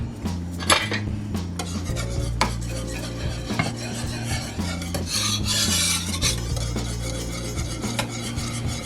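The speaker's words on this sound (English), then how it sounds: "Maybe I should go back in with the whisk." A whisk scrapes and stirs rhythmically through thick cream of pumpkin soup in a pot, a steady close rasping with scattered metallic clinks against the sides, heard over a low background hum.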